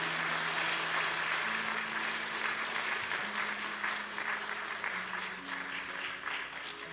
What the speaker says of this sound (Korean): 우리 격려의 박수 한번 주겠습니다.